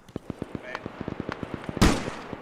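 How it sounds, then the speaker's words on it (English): In the military game Arma, a frag grenade goes off with a single loud, sharp blast midway through, preceded by a steady patter of rapid gunshots and followed by more scattered shots. "Frag going out north. Frag out."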